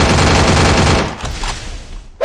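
Dense, rapid automatic gunfire in Free Fire, a loud, close burst that rattles steadily for about a second, then thins into scattered fainter shots before a last sharp report.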